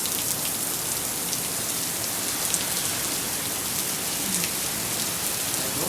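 Heavy rain falls in a steady, dense patter of drops on surfaces, unbroken and fairly close, with no voices.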